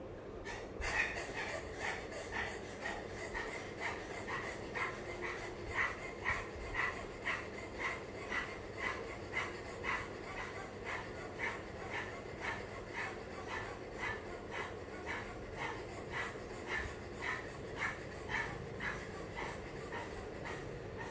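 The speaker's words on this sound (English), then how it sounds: "take your tongue out fully and start flapping your abdominal muscles and making a sound like you're panting" A person doing a yoga breathing exercise pants rapidly like a dog, tongue out and abdomen pumping, in a steady rhythmic series of quick breaths that runs throughout, close and moderately quiet.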